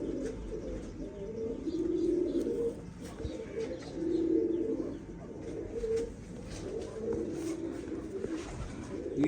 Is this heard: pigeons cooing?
yes